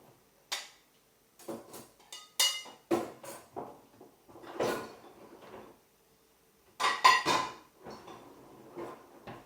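Dishes and cutlery clatter and clink as they are loaded into a dishwasher rack, irregular knocks and rattles close by with brief pauses.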